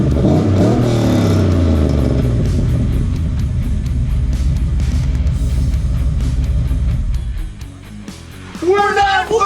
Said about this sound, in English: Let's rev it up a bit and let you hear how that sounds.